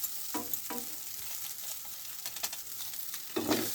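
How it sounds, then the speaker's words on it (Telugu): Masala fries and is stirred with egg in a pan for Maggi noodles. A brief, fairly quiet sizzle carries a few scraping stir strokes near the start and a louder scrape at the end. "ఇది కలిసేదాకా ఇలా కొంచెం వేగించుకుని తిప్పుదాం."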